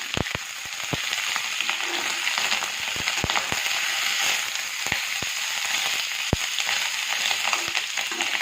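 Small pieces of pork, about 300 grams, fry in a pan of hot oil with a continuous close sizzle broken by scattered sharp spattering pops, one loud pop standing out, and no voices.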